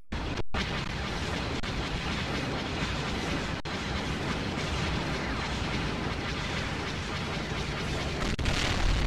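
Explosion in an emulated GameCube or Wii video game running on a Meta Quest 3, a loud sustained rumbling roar that fills the whole stretch, with brief dropouts and stutters breaking the sound.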